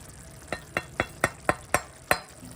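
Spoon scraping and stirring in a pan of bitter gourd pulusu as roasted white sesame, fenugreek and cumin powder are mixed in, seven crisp, evenly spaced strokes close up over a quiet background.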